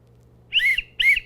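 A whistle gives two short, bright toots in quick succession, each a clear two-tone hoot, against a quiet, low background hum.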